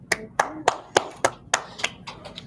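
A small classroom audience claps after a student talk in a freshwater ecology lecture: about ten sharp, evenly spaced claps at a slow, steady rhythm, close and fairly clear, with no talking over them.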